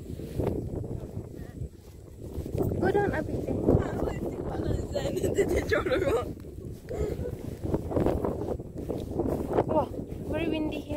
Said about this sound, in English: Wow, very windy here.